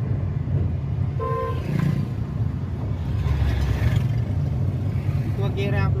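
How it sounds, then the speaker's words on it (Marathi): A short car horn toot sounds once, about a second into the clip, from a learner's car during a driving lesson, over a steady engine and road rumble while people talk inside the car. "हॉर्न वाजव."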